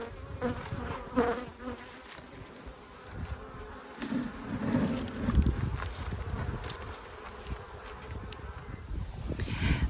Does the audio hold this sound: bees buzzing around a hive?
yes